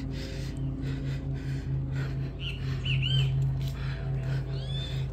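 Birds chirp and call in short bursts from trees along an old railway path over a steady low hum, moderately distant, with no talking.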